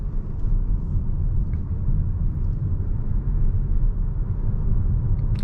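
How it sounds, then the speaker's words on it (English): Inside a 2022 Peugeot 3008 GT Hybrid plug-in moving at highway speed, a steady low road and engine rumble fills the cabin, with faint small clicks and no talk. "You can hear some sounds of the car"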